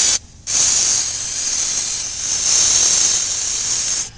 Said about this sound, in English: Now, do not spray backwards, because you'd likely hit yourself in the eye.